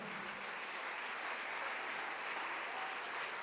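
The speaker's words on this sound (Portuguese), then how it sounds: "vamos aplaudir ao nome do Senhor" A church congregation claps steadily in a dense, even wash of applause that carries on throughout at moderate volume, with no clear pauses.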